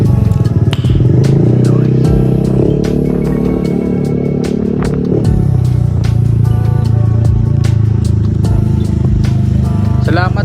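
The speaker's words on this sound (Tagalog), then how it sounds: "Umaandar na naman ang kanyang Aerox." A Yamaha Aerox scooter engine runs in a repair shop after being fixed, idling close and loud with a steady hum that shifts lower about midway, while people talk nearby.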